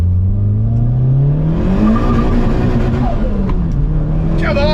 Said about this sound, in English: Big straight road. Big straight, right. First gear pull.